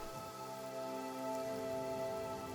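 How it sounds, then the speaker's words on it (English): Steady rain falling in the Genshin Impact video game, a continuous soft patter over a droning tonal music bed, even in level throughout with no voices. "Ooh, it's raining again."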